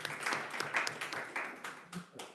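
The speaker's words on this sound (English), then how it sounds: "actually, clap for yourself" An audience in a lecture hall claps for itself, a short burst of scattered applause that is fairly faint and distant.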